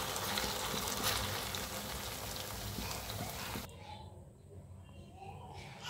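Beef kebabs frying lightly in a pan for mini burgers: a dense, fairly quiet crackling sizzle that thins out abruptly partway through, leaving a softer, duller hiss toward the end.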